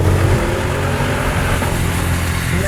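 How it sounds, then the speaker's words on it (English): The engine of a 2020 Audi RS Q8 roars loud and close under throttle, a dense continuous growl building steadily with no talking over it. "there's nothing that's going to keep you from pressing down on the throttle pedal and hearing that engine roar"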